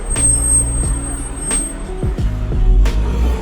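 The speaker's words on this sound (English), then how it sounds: "That's a truck." A heavy truck goes by outside, its low engine rumble rising and falling with gear changes and a few sharp clanks, loud and close throughout.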